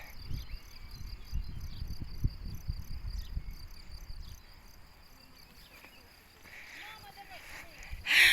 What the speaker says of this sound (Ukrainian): Цвіркунчики цвіркають.